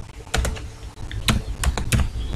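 Typing on a computer keyboard at a command prompt, a few quick bursts of close keystrokes with short pauses between them, no voices.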